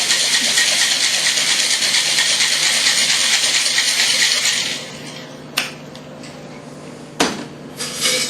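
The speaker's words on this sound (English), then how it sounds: "Take our shaker and shake vigorously." A cocktail shaker is shaken hard for a margarita, giving a loud, steady rattling hiss for about five seconds before it stops. A few sharp clinks follow as the shaker is set down.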